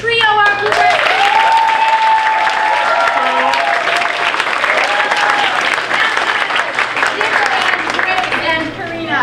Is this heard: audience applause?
yes